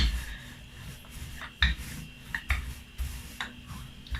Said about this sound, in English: So what I'm doing is I'm rolling it out about half an inch